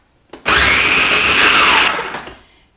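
A kitchen appliance whirs loudly as it chops whole apples for raw cider vinegar. One steady grinding burst lasts about a second and a half, then winds down, with no talk.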